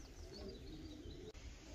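Pigeons in a breeding loft coo and call softly and steadily over a low, constant background hum, with no voices.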